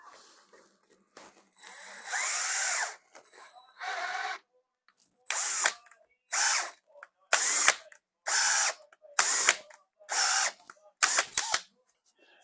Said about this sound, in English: Time to get the drill and the easy out